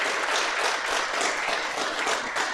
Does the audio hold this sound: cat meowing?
no